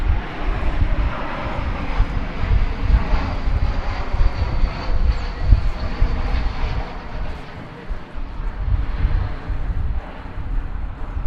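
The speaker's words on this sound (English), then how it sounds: "We have a flight from Cancun arriving now. It's American Airlines 2219." An American Airlines Airbus A321 arriving from Cancun rumbles at an airport, a steady low engine roar with gusty wind noise against the microphone throughout; no clear voices.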